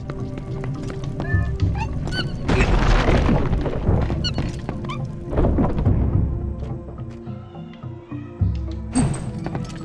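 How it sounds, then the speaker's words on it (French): Bomb explosion in the video game Zelda Twilight Princess: a loud, dense booming blast with rumbling low end in the middle of continuous game sound effects and music, close and full. "C'est une bombe."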